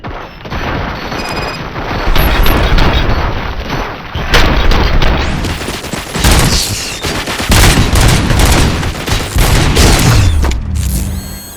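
Sustained gunfire and heavy booms from a futuristic police shooter game set in a besieged station, loud bursts of automatic fire with explosive impacts, nearly continuous throughout with no speech.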